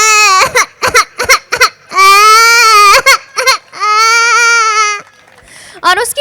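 A performer's voice imitates a baby crying on a train, with choppy sobbing bursts breaking into two long, loud wails, then a few more short sobs, all close and alone.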